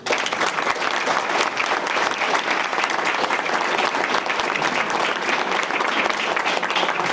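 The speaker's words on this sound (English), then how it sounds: "Give yourself an applause." Warm, loud applause from the audience at an evening community gathering at a mosque, dense and continuous clapping holding steady from start to finish with a faint crowd murmur beneath.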